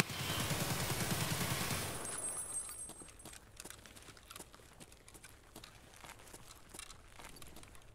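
A dense, loud burst of automatic gunfire rattles for about two seconds in an Escape from Tarkov bunker firefight, then thins to scattered single shots and sharp impacts over a quieter background.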